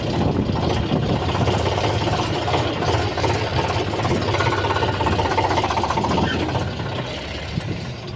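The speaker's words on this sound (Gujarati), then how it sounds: "કાનભાઈ ટ્રેક્ટર કાઢે છે" A tractor engine idles nearby on a farm, a steady low chugging rumble with a dense rattling texture that runs unbroken for several seconds and eases slightly at the end.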